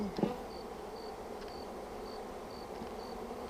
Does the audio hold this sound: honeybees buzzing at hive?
yes